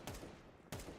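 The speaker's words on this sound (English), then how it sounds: "Little SMG spam from the side of that smoke" SMG gunfire in the game Counter-Strike 2, two quick faint bursts of rapid shots separated by a short gap, distant and quiet with no talking.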